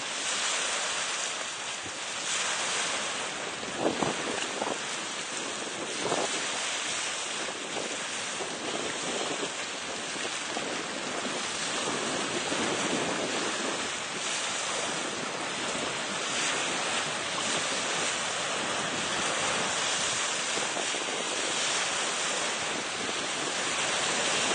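Sea waves and gusty wind buffet a small boat off Weston, a continuous loud wash of surf and wind noise with rising and falling surges throughout.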